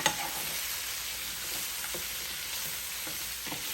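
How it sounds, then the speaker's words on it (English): Cabbage sautéing in a pan with garlic powder sizzles steadily while being stirred, with a few soft scrapes of the utensil against the pan; no voices. "I'm going to stir that up nice and good"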